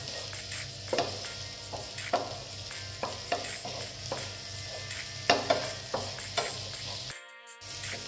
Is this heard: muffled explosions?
no